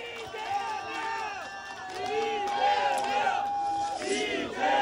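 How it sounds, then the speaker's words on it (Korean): Crowd at a Democratic Party campaign rally for the Yeonggwang county head by-election cheering and shouting loudly, a dense sustained roar of many voices that builds and stays loud throughout. "큰 박수와 함성 부탁드립니다."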